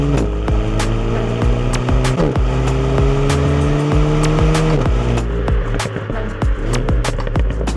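Renault Mégane RS Ultime hot hatch accelerating hard in sport mode on a twisty road, engine pitch climbing through steady rising bands with a gear change midway and a brief drop near the end, loud and close throughout.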